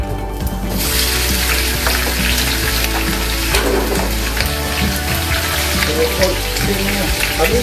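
Shrimp frying in a hot pan, a loud steady sizzle that flares up right after a quiet first moment and keeps crackling throughout.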